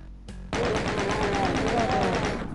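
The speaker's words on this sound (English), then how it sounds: "this is why I like the chain gun." A video game chain gun opens up after a short pause, then fires in a fast, loud, continuous rattling stream of rounds that holds until the end.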